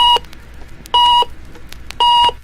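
Three short, identical electronic beeps from an Electronic Detective game computer being switched on, evenly spaced about a second apart, clear and close with nothing else around them.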